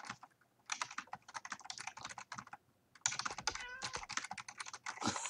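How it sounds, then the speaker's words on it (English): A pet cat gives a brief meow over rapid close computer keyboard typing, the clattering keystrokes dominating throughout. "I'm gonna assume that was your cat and not you."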